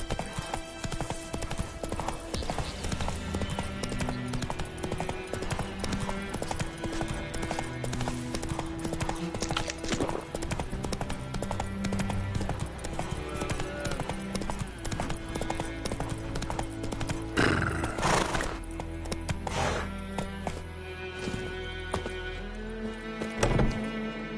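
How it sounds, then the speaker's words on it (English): Hooves of the horse Roach clop in a steady galloping rhythm throughout The Witcher 3, loud and continuous over layered game music, with a brief louder burst near the end. "Run, Roach"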